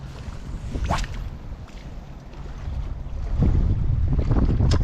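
Strong side wind buffets the microphone in a steady, roaring rush over open water while fishing for zander, swelling louder toward the end with no voices.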